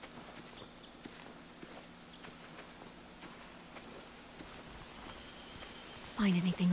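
Faint clip-clop of horses' hooves in The Walking Dead video game, soft and fairly distant, under a low ambient hum, with a sharper sound near the end.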